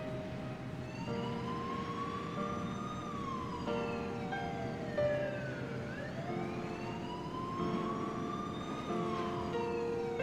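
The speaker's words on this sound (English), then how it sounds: "In the distance, she could faintly hear the sound of police sirens." Wailing police sirens in the video game 428: Shibuya Scramble rise and fall steadily, several overlapping, heard at a distance over a low background rumble.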